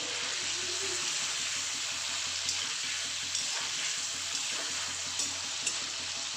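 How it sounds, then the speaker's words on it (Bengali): Paneer cubes frying in a pan over low heat give a steady close sizzle with small crackles and pops throughout and no talking. "স্টিমটা কম করে আমি পনিরগুলো ভেজে নিই।"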